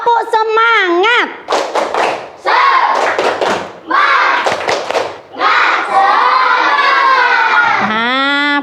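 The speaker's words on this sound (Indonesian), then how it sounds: "Yo, tepuk semangat." Children in a classroom do a rhythmic spirit clap, with bursts of clapping in a steady pattern and loud voices chanting along throughout.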